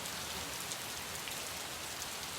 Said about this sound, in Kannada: ನಗರದ ಪ್ರತಿಯೊಂದು ದಿಕ್ಕುಗಳಲ್ಲೂ ಕೂಡ ಮಳೆ ಜೋರಾಗಿ ಅಬ್ಬರಿಸಿತ್ತು